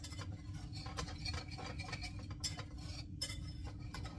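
Dry ingredients for homemade chocolate pudding being combined and stirred in a bowl, giving soft scraping and light clinks of a utensil against the dish, steady and close throughout, with no talking.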